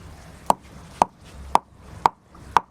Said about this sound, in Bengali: আজকে আমি জিরে হেমল দস্তায় গুঁড়ো করবো